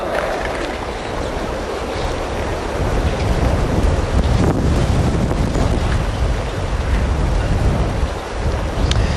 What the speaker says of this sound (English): The wind is certainly blowing from right to left.